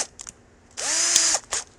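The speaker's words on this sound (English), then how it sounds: "I'm going to drill a hole in the top of my vice jaws." A power drill bores a hole into the top of a bench vice's steel jaws, one sustained whining burst of about half a second, close and loud, framed by short clicks and handling noises.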